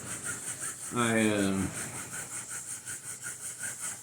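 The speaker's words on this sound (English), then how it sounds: "Trying to sand this, clean it up." A glued AT-AT prop part is hand sanded in steady, rhythmic rubbing strokes repeating close by, briefly interrupted by a short vocal sound.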